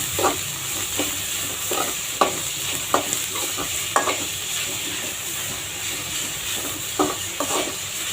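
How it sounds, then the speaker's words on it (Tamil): Onions, green chilies and curry leaves sizzle steadily in hot oil while a spoon scrapes and stirs the pan, with regular clinks and scrapes over the constant hiss. "நம்ம கட் பண்ணி வச்ச வெங்காயம், பச்சை மிளகாய், கருவேப்பிலை போட்டுடலாம்."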